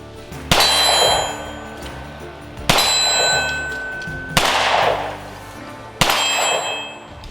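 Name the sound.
pistol shot hitting steel target plate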